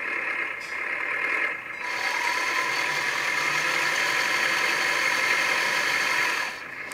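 A LESU 1/14 scale hydraulic RC road roller drives with its simulated engine sound running, a steady, fairly loud mechanical drone that holds for several seconds with slight dips near the start and end.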